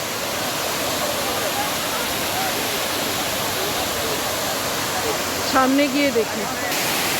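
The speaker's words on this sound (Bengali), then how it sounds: "এত ভয়ঙ্কর জলের স্রোত" Water rushes loudly and continuously through open dam lock gates, a dense steady roar, while someone speaks briefly over it near the end.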